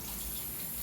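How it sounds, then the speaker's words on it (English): Tap water streams steadily over an object being rinsed of residue, a continuous soft rushing splash for under a second. "So I guess I can just rinse it off."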